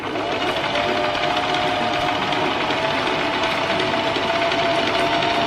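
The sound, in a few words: sewing machine stitching a DIY crop top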